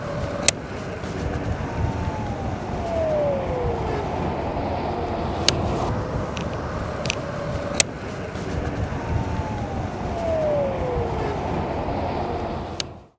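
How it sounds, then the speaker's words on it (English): Uscooters Booster V electric scooter at top speed, heard as steady wind and road rush with a faint rising whine passing by twice, ending with a brief sharp stop. "I'll take it to max speed, and once I come into view, I'll hit the brakes"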